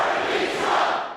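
A crowd in the room at a Bernie campaign event gives out a loud, broad roar of cheering that fades slightly at the end.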